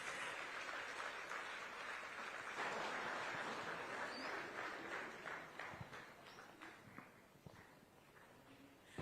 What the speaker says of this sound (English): Kindly with a big round of applause, ladies and gentlemen.